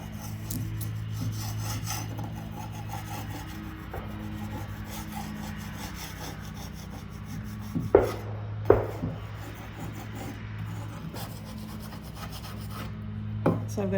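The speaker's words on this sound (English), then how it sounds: "So I'm going to scrape this off." Chippy paint being scraped off wood after heat-gun softening, a steady rough rasping drag that runs throughout, with a few sharper knocks near the end and a constant low hum beneath.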